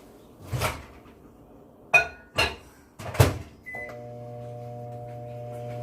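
A microwave oven heating butter for 30 seconds, after a few clattering kitchen knocks and the beeps of buttons being pressed, then a steady low hum running on alone.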